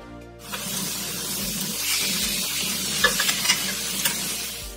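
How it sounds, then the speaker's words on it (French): Chicken pieces brown in a frying pan with a steady, close sizzle and hiss, broken by a few brief clicks and scrapes near the end. "Répartissez-le du mieux possible sur toute la surface de la poêle et laissez-le dorer pendant 2 minutes"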